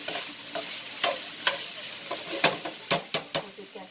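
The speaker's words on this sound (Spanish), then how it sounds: "ya licué el chile, así que esto se lo voy a echar hasta que dore un poquito más" Blended chile sauce hits meat browning in a hot pan, setting off a steady sizzle broken by repeated scraping stirs and clinks of a utensil against the pan, close and fairly quiet.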